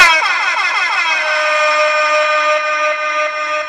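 A DIY electric horn kit plays an uploaded sound through its speaker, a loud, close air-horn style blast with rich harmonics that starts sharply and holds steady for nearly four seconds.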